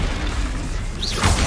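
A Confringo fire spell blasts in the Hogwarts Legacy game on PC, a loud, dense burst of fiery noise with a rising whoosh near the end, close and alone without talk.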